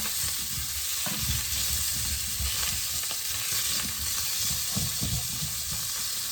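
Meatballs frying in a hot pan with sausages as they are pushed and turned around, a steady close sizzle with soft scraping and stirring bumps throughout, no voices.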